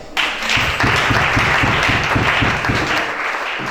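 A church congregation at a prayer and deliverance service breaks into applause, dense sustained clapping with a regular rhythmic beat running the whole time, loud and close, a few voices mixed faintly underneath.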